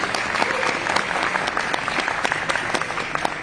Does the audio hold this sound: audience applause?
yes